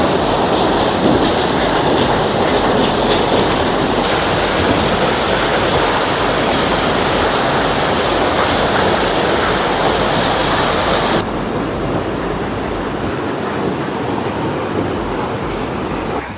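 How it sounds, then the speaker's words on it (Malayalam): Irappam Kuzhi waterfall in the Neyyar Wildlife Sanctuary near Amboori drops into a small pool, making a loud, close, unbroken roar of rushing water that eases slightly toward the end, with no voices. "നെയ്യാർ വൈൽഡ് ലൈഫ് സാങ്ച്വറിയിൽ ഉൾപ്പെടുന്ന വള്ളിയാർ എന്ന് പറയുന്ന ഇതാണ് നമ്മൾ ഈ കാണുന്ന ഈ വെള്ളച്ചാട്ടം"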